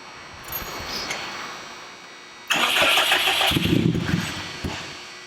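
Quiet background, then a Subaru WRX engine cranks and catches abruptly on its first start-up, revving roughly for a couple of seconds nearby.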